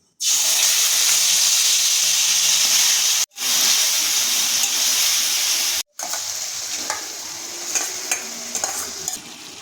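Marinated chicken hits hot ghee spiced with cardamom, cloves, cinnamon and bay leaf, producing a loud, dense, steady sizzle that cuts out twice and then returns softer, with stirring scrapes near the end.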